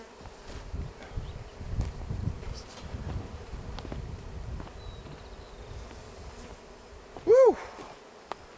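Honey bees buzz around a newly installed Bravo 1 hive on a ranch, a steady droning hum outdoors with light wind noise and one louder close buzz passing near the end.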